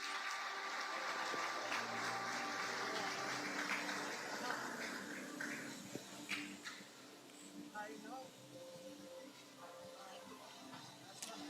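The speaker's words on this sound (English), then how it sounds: "The Senator is now entering and being greeted with a warm round of applause" A warm round of applause greets a senator entering parliament at a 2021 opening ceremony, a dense patter of clapping that fades toward the end while a voice talks over it.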